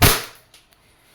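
A single shot from a WE airsoft Glock 18C pistol, a sharp close crack that decays quickly, followed by two faint small clicks.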